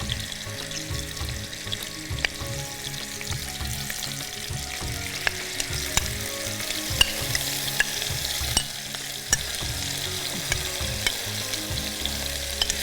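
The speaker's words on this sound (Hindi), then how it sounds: "इसके साथ हम चिकन को इसमें फ्राई कर लेते हैं" Chicken frying in hot oil with ginger, a steady close sizzle with frequent stirring scrapes and clinks of a utensil against the pan throughout, no voices.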